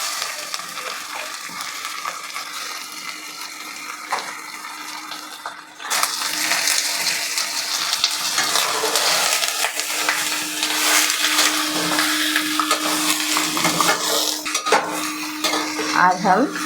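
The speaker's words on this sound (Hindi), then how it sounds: "हम 1 केजी चिकन लिए हैं, इसी में डाल देंगे और डाल करके भून लेंगे।" One kilogram of chicken pieces frying in spiced tempering in a pan for a rustic-style chicken dish, with steady sizzling, clanking utensil and pot contact, and stirring scrapes that grow louder after the chicken goes in.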